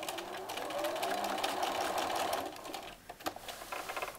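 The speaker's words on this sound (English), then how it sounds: "I'm going to sew really slow over it so I don't break a needle." A sewing machine stitches slowly over rope cord, its motor running in a steady close whir, then slowing into separate thumping needle strokes.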